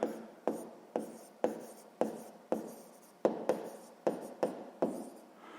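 Pen writing by hand on paper during a sixth-grade maths exercise, about eleven short scratchy strokes in a steady rhythm, close and fairly quiet, with no talking.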